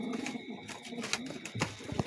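Two pigeons coo in soft, repeated throaty calls close by, with light shuffling and rustling between the calls and no speech.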